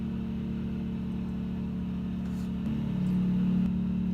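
A generator engine drones steadily with a low hum, then its pitch and loudness step up partway through as it revs higher.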